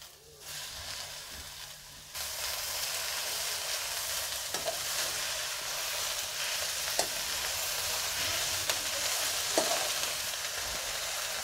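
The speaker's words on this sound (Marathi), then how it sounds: "थोडी मेथीची भाजी टाकायची आणि हलवून घ्यायची" Fenugreek leaves frying in hot oil with ginger masala, a low steady sizzle that jumps louder after a couple of seconds and continues, with a few faint stirring clicks over the hiss.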